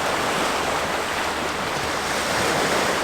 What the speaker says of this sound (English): the rocks and the, well, you can hardly call them waves,